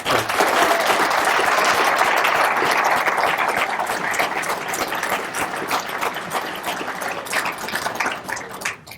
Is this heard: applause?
yes